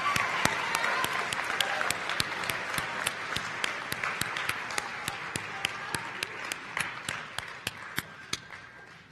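An audience at a 2019 college honors convocation applauds the Saxton Fellows, a dense, steady round of many hands clapping with a few sharp individual claps standing out, tapering slightly toward the end.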